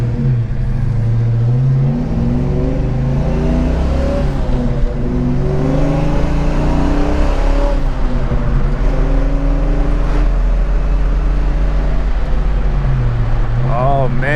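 Classic Ford Mustang engine revving and rumbling from inside the car while cruising, loud and continuous with rising and falling throttle, a voice briefly audible over it.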